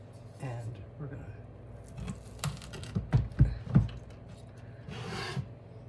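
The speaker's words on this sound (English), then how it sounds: "cut them into quarters." A knife cuts taco flatbread minis into quarters: several short crisp crunching cuts clustered together near the middle, with speech around them.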